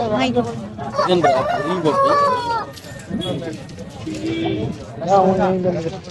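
A rooster crows several times nearby at a rooster market in Kunnathur, Tirupur, mixed in with people talking and other poultry sounds in a busy outdoor setting.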